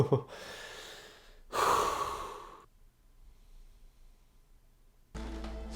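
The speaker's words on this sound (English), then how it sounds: "Okay, I'm gonna breathe now." A person watching a thriller exhales in relief, with a short gasp, then a long, breathy sigh out, a pause of near silence, and a sudden burst of louder sound at the end.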